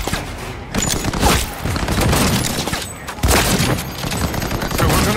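Loud, dense gunfire from the player's weak gun in Cyberpunk, sustained bursts of rapid shots with booming impacts, close and continuous, with a short lull near the middle.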